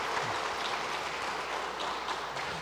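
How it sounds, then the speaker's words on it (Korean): A church congregation claps together to welcome new members during a Sunday worship service, a steady, soft patter of many hands filling the hall for a few seconds, distant and even. "잠깐 자리에 일어나 인사하실 때 우리 박수로 환영하도록 하겠습니다."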